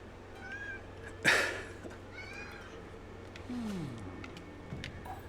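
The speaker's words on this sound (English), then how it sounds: "Apparently my cat agrees." A house cat meows a few times in the room, short harmonic calls plus one brief louder cry, with faint background noise and a game's ambient sound low underneath.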